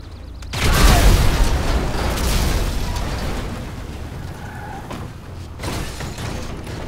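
Vehicle explosion in the game GTA V, a sudden loud close blast followed by a sustained roaring, crackling burn that fades somewhat, then a second swell of rumble and debris noise.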